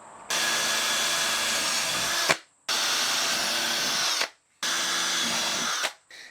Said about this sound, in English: you sort of have to drill through both of them together